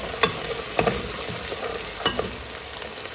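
Garlic and ginger frying in a pan for beef paya curry, a steady broadband sizzle with several sharp stirring scrapes at irregular intervals, close and fairly loud, no voices.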